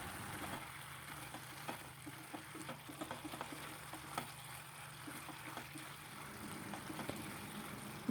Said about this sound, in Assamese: অকণমান ভাজি ল'ম মছলাৰ লগত।